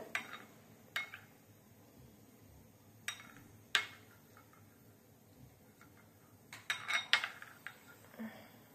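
A spoon taps and clinks against a bowl while sauce for sweet lemon chicken is mixed: scattered light ticks, a few sharper knocks, and a quicker flurry of clinks near the end, close but quiet.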